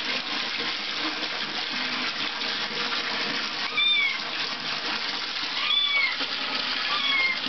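Water runs steadily from a tap into a bath while a cat is being washed, with the cat letting out a few loud meows over the continuous flow.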